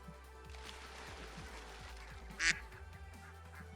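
A single loud duck quack bursts out midway over a quiet, rustling background with soft low thumps.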